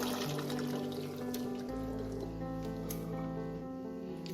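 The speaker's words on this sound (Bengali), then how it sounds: "এবার আমি সেদ্ধ করে রাখা চানাটা দিয়ে দেবো" Boiled chickpeas tumble into simmering spinach gravy in a pan for palak chole, giving a wet, squishy splatter and soft pouring sounds close by with no talk.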